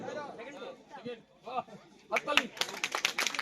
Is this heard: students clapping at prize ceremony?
yes